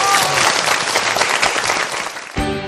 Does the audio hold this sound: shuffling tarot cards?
no